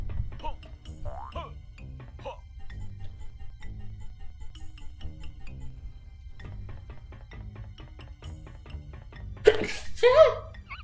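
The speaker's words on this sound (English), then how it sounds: "Yeah, I had to sneeze." A sneeze in the Banjo Tooie video game rings out loud and sharp near the end, following a stretch of game music and faint effects.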